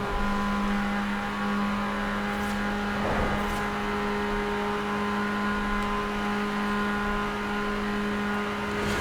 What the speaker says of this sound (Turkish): Ama egzoz çok güzel çatır pat, çatara patara yapmıyor mu ya vites değiştirirken?